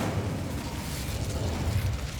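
The Incendio fire spell cast in Hogwarts Legacy, a steady roaring, crackling whoosh of flame with a low rumble that holds at an even level, with no talking.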